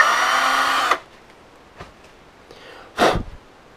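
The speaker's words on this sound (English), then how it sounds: "So I'm going to drill this out really quick." Small power drill boring a hole through a plastic servo horn, a steady whining burst for about a second, then quiet with a couple of faint clicks and a short sharp noise near the end.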